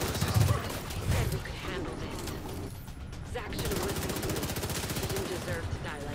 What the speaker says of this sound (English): Very well placed turret.